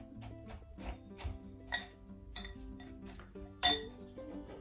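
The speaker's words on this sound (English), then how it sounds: "I like to mix it up first because I think it distributes the sugar a little better" Crushed vanilla wafer cookies and sugar being mixed in a bowl, with a series of light clinks and taps from a utensil striking the bowl in an uneven rhythm, fairly quiet and close.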